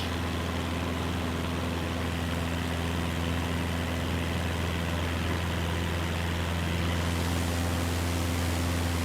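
Steady aircraft engine drone in Microsoft Flight Simulator 2024, throttled back to lower RPM on approach to landing at dusk: a continuous loud hum with low tonal bands, unbroken for the whole stretch.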